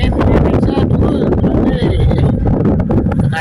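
Strong, cold outdoor wind in Saudi Arabia buffeting the microphone in loud, continuous gusts with a rough low roar.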